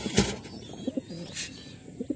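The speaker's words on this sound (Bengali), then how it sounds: "এই জায়গায় কবুতর আছে, এই জোড়ায় ডিম দিবে কিছুদিনের ভিতরে।" Domestic pigeons kept in breeding pairs in a loft give a few soft, low coos close by, along with a brief flutter-like rustle.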